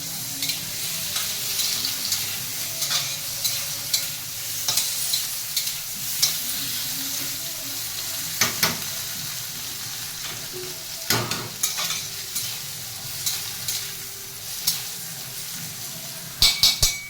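Potato pieces fry in a pan and are stirred throughout, giving a steady close sizzle broken by repeated scraping strokes and a brief clatter of utensils near the end.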